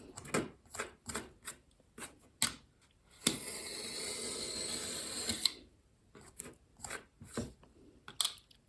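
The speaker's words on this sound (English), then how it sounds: "start sliding your knife soft against the ruler" Craft knife pulled along a ruler through stacked layers of paper, a series of soft close crunching scrapes with one longer sustained rasping stroke in the middle.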